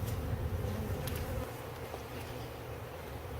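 Honey bees buzz around a newly installed nuc hive in an urban backyard, a dense steady hum close to the microphone with no voices.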